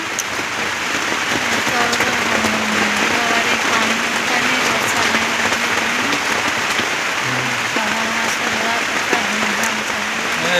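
Heavy monsoon rain pours down steadily, a loud dense hiss of drops on surfaces throughout, with faint background voices and sounds beneath it.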